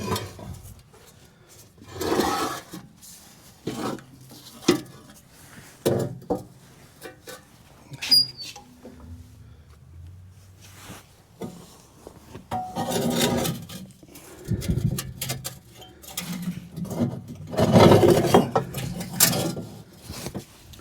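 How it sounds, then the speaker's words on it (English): A metal pot clanks and scrapes into a waste oil burner as it slides in on a length of 2x2 box tubing, leaving scattered close knocks and rubbing sounds with quiet gaps between them. "is to go ahead and put the pot in"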